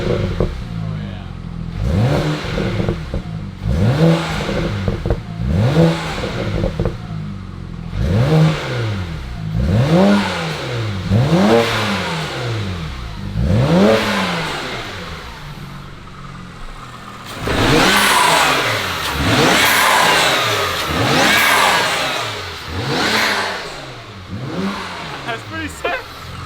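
BMW E90 335i engine pulling at full boost: loud, close revs that climb and fall in a rapid series of repeated sweeps, followed by a longer, sustained high-rev run. Voices are heard intermittently alongside the engine.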